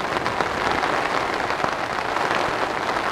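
Heavy rain drumming steadily on a camping tent during a cold-weather storm, a dense, even patter close around with no voices.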